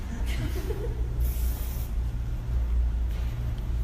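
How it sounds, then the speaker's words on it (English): Hair spray from an aerosol can is misted onto a woman's freshly cut hair in a salon, with a few short hissing bursts over a steady low room rumble. "I'm actually going to put a little spray in her hair also"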